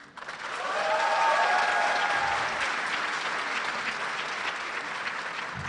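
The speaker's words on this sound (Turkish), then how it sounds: "Kendisine bir destek alkışı daha rica ediyorum sizlerden" Sustained audience applause at a New Year nostalgia concert, swelling quickly and holding steady as a dense crowd clap for several seconds, close and full.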